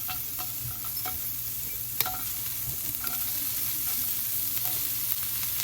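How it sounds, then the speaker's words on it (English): Chopped onion sizzles in hot oil in a pan, a steady close frying hiss broken by scraping clicks of a utensil stirring it, with no talk. "Now we're gonna add the onion."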